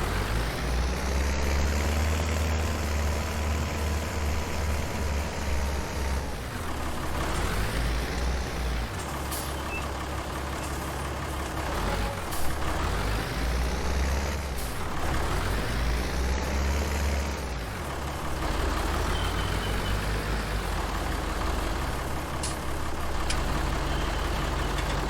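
A farm tractor engine in Farming Simulator drones loudly and steadily throughout. It rises and falls in pitch in repeated sweeps as the machine revs under load.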